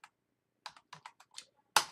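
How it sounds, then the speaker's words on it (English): Several quick keystrokes on a computer keyboard spell out a command in short spaced bursts, finishing with a louder, sharper press like a final Enter, close and clear against quiet. "I'm just going to type in wget.exe"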